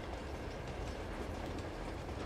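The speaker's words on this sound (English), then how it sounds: "this train is a pretty important train" Steady rumble and clickety-clack of a moving train in the Uncharted 2 video game, loud and continuous with no talk over it.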